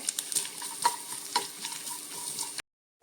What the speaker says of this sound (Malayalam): ഈ തേങ്ങാക്കൊത്തൊക്കെ ഒന്ന് വറുത്തെടുക്കാൻ വേണ്ടി ഒരു ടീസ്പൂണ് നെയ്യ് ഒഴിച്ചിട്ടുണ്ട്